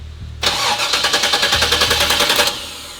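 A 1967 Chevy Camaro RS engine cranks steadily in a rapid, rhythmic churn for about two seconds without firing, then stops.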